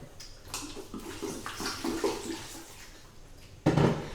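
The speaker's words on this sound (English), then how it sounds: "let me rinse the greens real quick" Greens are rinsed under running water from a tap, giving a short, close splashing rush that shifts as the leaves move through the stream and ends in a louder splash.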